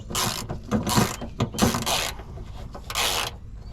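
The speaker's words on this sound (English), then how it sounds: "So the screw and washer that holds that in place, put that in first and tighten it up." A screw and washer being tightened down to hold a coolant or fluid reservoir in place, giving several short bursts of ratcheting clicks close by, separated by brief pauses.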